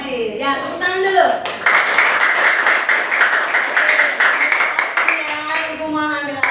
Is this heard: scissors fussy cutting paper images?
no